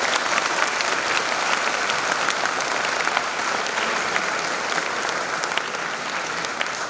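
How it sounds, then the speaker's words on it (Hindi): A large audience applauds steadily and loudly at a Bundelkhand University 75th Republic Day celebration, dense continuous clapping that holds even for the full stretch with no voices on top. "अब आप जोरदार ढंग से तालियां बजाइए अपने लिए।"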